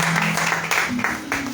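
A church congregation applauding during a worship service, a dense wash of clapping with voices mixed in.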